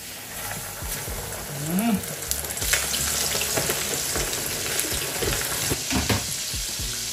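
Sizzling oil in a hot pan while chicken fries for Filipino-style spaghetti with fried chicken, a steady close crackle with occasional stirring clinks and scrapes, no talk.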